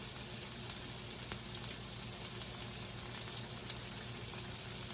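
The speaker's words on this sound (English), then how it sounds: "So we're going to drop in our onions now. We want them to start caramelizing." Onions fry and begin caramelizing in a pan for venison burgers, giving a steady soft sizzle with faint scattered crackles and pops, close and fairly quiet with no talk.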